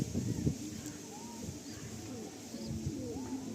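Madrasi pigeon cooing softly in short low phrases, fairly faint against a steady background hiss, with brief faint chirps from other birds mixed in.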